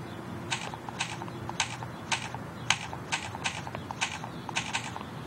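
Stylus taps on the on-screen keyboard of an Apple Newton handheld: about ten light, crisp clicks at a fairly even pace, close up over a soft background hum.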